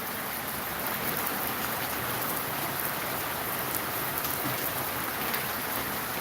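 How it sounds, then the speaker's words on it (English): Heavy rain pours steadily down into a gutter, a dense continuous hiss of falling water and splashing drops that stays loud and unbroken throughout, with no voices. "The rain is really coming down."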